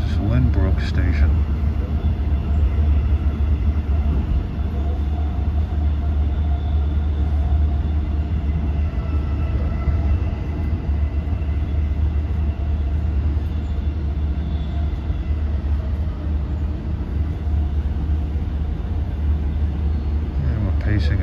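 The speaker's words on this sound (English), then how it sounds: "And we're pacing a train out of Long Beach." Long Island Rail Road train on the Patchogue to Penn Station run, riding alongside a Long Beach train, a continuous loud low rumble and rattle of the rail car heard from inside throughout.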